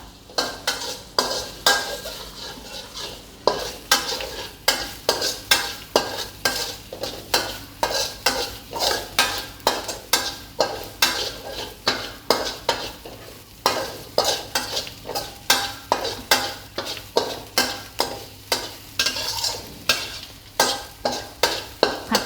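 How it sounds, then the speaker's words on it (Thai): A spatula scrapes steadily in a rhythmic stirring pattern over the soft sizzle of garlic frying in a pan, with no talking. "ใส่กระเทียมที่เราเตรียมไว้นะคะ ผัดผัดให้หอมนะคะ"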